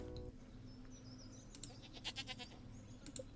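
Faint bleats from a goat on a Stardew Valley farm, a short run of quavering cries over soft background game music.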